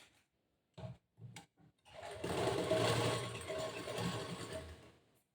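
A few sharp knocks of cloth being positioned come first. Then a sewing machine whirs in a steady, rapid mechanical rattle for about three seconds, stitching two joined pieces of blouse fabric along a half-inch seam.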